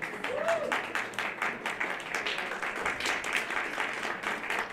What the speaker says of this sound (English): Round of applause for our leaders